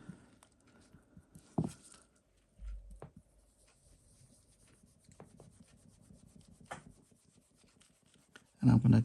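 A cloth rubs over the face of a 1984 Casio game watch to remove scratches, producing soft, quiet, intermittent rubbing strokes with a few louder handling bumps and a brief voice.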